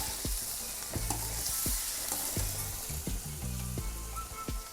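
Chilli mixture with green chillies and chilli flakes stirred in a sizzling pan, a spoon scraping in repeated rhythmic strokes over steady frying hiss, close and alone.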